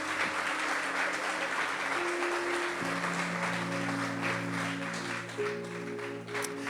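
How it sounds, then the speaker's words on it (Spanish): A church congregation claps loudly and steadily at a Christian sermon, with sustained organ or keyboard chords ringing underneath the dense applause throughout. "¿Qué tal si le da un fuerte aplauso al Señor y se pone sobre sus pies?"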